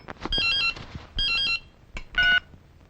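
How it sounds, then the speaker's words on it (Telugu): A telephone rings in a film scene, several short electronic bursts in a broken rhythm with brief gaps between them, loud and close. "డాక్టర్ గిరి ఫోన్ చేశారు."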